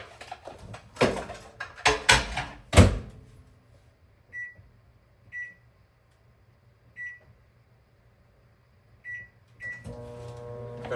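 A microwave oven is used to defrost frozen chicken: door and cupboard knocks first, then a series of short keypad beeps, with the oven starting its hum at the end.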